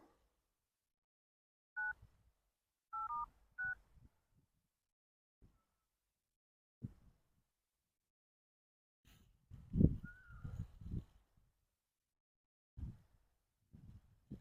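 Several short two-tone keypad beeps sound in quick succession in a quiet room, followed later by a person speaking.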